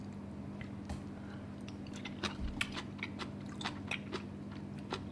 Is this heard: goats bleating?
no